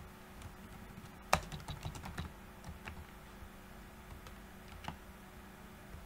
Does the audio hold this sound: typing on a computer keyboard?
yes